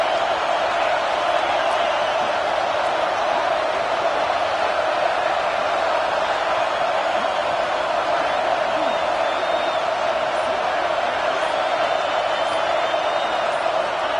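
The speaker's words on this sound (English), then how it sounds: "It's early, but this crowd is fired up. Listen to this noise here." Loud, sustained crowd roar fills a stadium early in a college football video game matchup against LSU, a constant wall of noise with a commentator talking over it.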